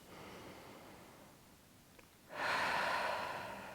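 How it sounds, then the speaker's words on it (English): Deep breath during a stretching exercise for the glute and lower back: a quiet inhale, then a louder, steady breathy exhale near the microphone, with no talking. "We're going to do 2 more breaths."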